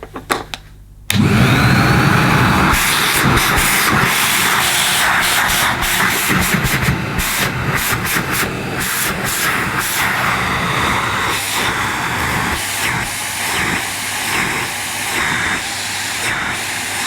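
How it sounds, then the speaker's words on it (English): Vintage Hitachi CV160 bagless vacuum cleaner switching on after a second of quiet, then a steady, loud whining motor drone with a broad hiss, running continuously up close. "It's got a nice sounding motor."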